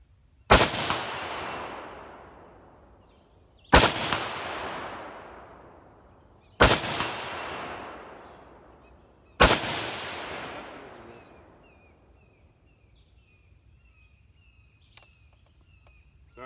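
Four loud DSA SA58 rifle shots fired outdoors, evenly spaced about three seconds apart, each sharp crack trailing into a long rolling echo, with faint insect chirps in the quiet gaps.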